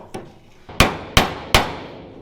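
A hammer striking a chisel against a broken wiper arm on an LJ20, four sharp metallic clangs with a lighter tap before them, close and loud with ringing decay.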